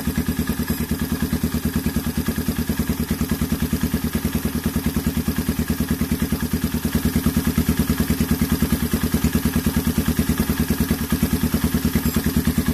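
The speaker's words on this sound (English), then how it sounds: "So let me turn those fans back on, and it'll cool it." Cooling fans blowing on two 2016 DongFang SX-R DF250RTC motorcycles while an engine idles, a dense continuous whir over a rapid, even mechanical pulsing that stays close and loud throughout.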